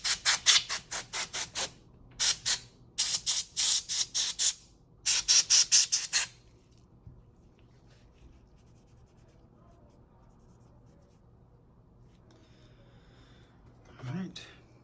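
Cleaner is sprayed onto a MacBook Air screen during a screen replacement: a run of sharp, hissing spray bursts in quick clusters, fairly close, followed by near silence and a faint low rustle at the end.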